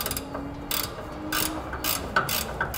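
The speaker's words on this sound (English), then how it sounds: "I'm using a 16 millimeter ratcheting wrench to tighten up those two bolts" A 16 mm ratcheting wrench clicks in quick repeated bursts while tightening bolts on a truck suspension, close and crisp, with no talking.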